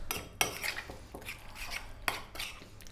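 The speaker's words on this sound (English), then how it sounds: "We're literally just going to give this a little mix and it's done." A spoon stirring sour cream salsa in a bowl, quiet scrapes with a couple of sharper clinks against the dish, close and alone.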